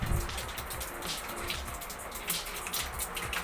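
Water splashes and trickles into a container holding growing water spinach, with irregular dripping and pouring sounds close by and no talking.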